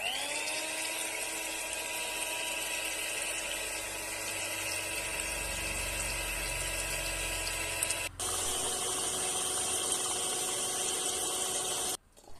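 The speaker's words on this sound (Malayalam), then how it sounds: "ആ ബീറ്റർ വെച്ചിട്ട് ബീറ്റ് ചെയ്തെടുക്കുകയാണ് ചെയ്യുന്നത്" An electric cake beater churning homemade butter, a steady high-pitched motor whine running continuously and close, with a brief change in pitch near the end.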